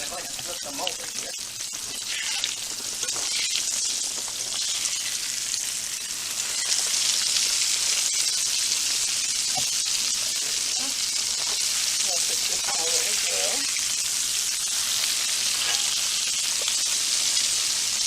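Steady loud sizzling of egg-washed, battered pork chops frying in a hot pan, continuous crackle throughout with occasional faint clinks.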